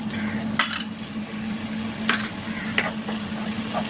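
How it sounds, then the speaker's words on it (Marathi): Tamarind water poured into a dal tempering for Andhra-style dal rasam gives a steady close sizzle and fry hiss, broken by a few short clinks and stirring scrapes. "आता त्यानंतर घालायचे चिंचेचं पाणी"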